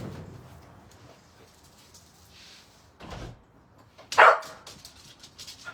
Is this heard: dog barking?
yes